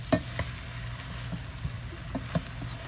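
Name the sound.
food sautéing in a pan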